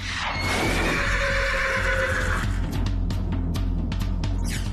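A horse whinnies loudly and close, a long rising-and-falling neigh, followed by a few snorts and shuffling sounds.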